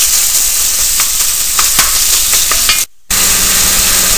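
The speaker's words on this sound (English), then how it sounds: "You want to break the meat down so it's in little pieces too." Ground meat browning with shallots in a pan, sizzling steadily and close with scattered scrapes and clicks as it is broken into small pieces; the sound cuts out briefly near the end.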